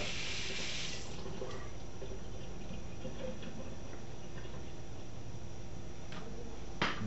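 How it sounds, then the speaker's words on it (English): The blade of a Robot Coupe R2 Ultra food processor is rinsed under a running tap, with a steady patter of water over a continuous background and a few faint clinks near the end. "when you're washing it, you have to be really gentle on how you handle it"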